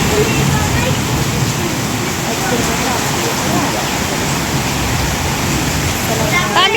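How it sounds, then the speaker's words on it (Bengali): Heavy rain drumming on a tin roof over a mud house, a dense, loud, continuous roar of patter with no breaks. "টিনেতে বৃষ্টির শব্দ কি ভালো লাগে, আর এতটা বৃষ্টি যে আরও শুনতে ভালো লাগছিল"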